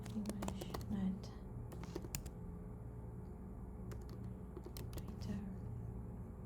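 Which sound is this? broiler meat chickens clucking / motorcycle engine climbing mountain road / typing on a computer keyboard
typing on a computer keyboard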